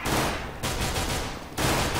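Rapid gunfire in a video game, a dense, loud stream of shots in about three sustained bursts separated by brief breaks, with no voices.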